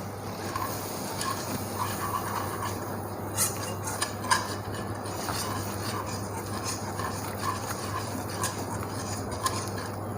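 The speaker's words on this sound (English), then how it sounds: "now we will add in our all-purpose flour and then whisk it to make a roux" A whisk scrapes and clinks steadily in a pot as all-purpose flour is worked into melted butter for a roux, soft continuous stirring with occasional sharper metallic taps and a low background hum.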